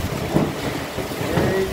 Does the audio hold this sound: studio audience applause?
no